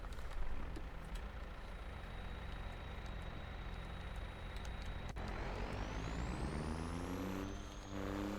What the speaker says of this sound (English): This truck's a little loud.